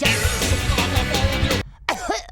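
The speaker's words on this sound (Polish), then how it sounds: "Czy to jest kaszel mokry, czy kaszel suchy?" A series of harsh, rapid coughs in a rough burst, followed after a short pause by a couple of vocal sounds.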